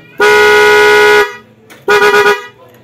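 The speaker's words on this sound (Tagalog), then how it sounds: "ato ang horn kay pwede na siya rapid, pwede mas steady" A Honda Click 160 motorcycle horn blares in one long steady honk, then a quick series of rapid short toots, loud and close.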